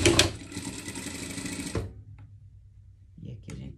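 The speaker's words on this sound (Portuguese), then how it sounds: "E aqui a gente vai passar costura de volta." Sewing machine stitching backward along cotton knit fabric, a steady close whirring run for nearly two seconds, then stopping, with light handling clicks and rustles afterward.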